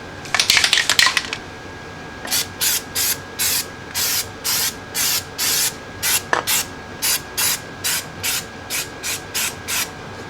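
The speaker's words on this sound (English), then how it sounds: "I'm just going to hit it with some rubberized undercoating." Rubberized undercoating sprays onto a Jeep Cherokee XJ unibody frame in a quick flurry of hisses, then in about a dozen short, evenly spaced bursts, close and loud.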